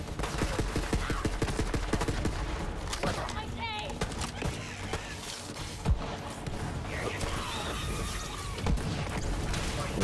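Rapid gunfire crackles in the video game Borderlands 3, with bursts of automatic shots and a few heavier booms layered over continuous game noise, while players talk over the action.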